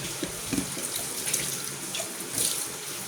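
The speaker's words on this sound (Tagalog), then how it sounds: "Malapit na pala mapuno yung aking balde." Steady running tap water pours into a bucket in a kitchen, a continuous splashing rush with no voices, close by and moderately loud.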